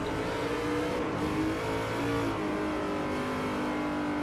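BMW M3 GT2 race car engine in Forza 4 at Motegi, a steady loud drone that rises and falls slightly as the car holds speed, with no talking.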